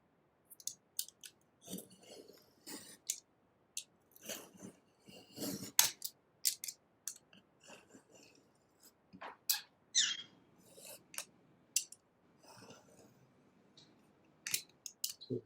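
Paper for a zoetrope is cut by hand on a cutting mat, producing close, irregular bursts of sharp snipping and scraping with short quiet gaps between strokes and no voices.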